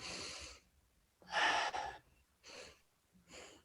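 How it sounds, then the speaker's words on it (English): A big breath drawn in through the mouth and let out during a breathwork exercise, heard as several close, airy gasps and exhales separated by quiet pauses. "take in a big mouth breath and let it out."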